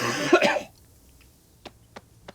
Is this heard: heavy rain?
no